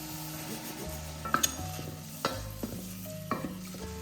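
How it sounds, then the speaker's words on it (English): Tofu cubes fry in warm sesame oil in a deep pot over medium heat, with a steady soft sizzle and a few sharp clinks and scrapes of stirring, no voices. "In a deep pot over medium heat, I warm sesame oil and add the tofu cubes."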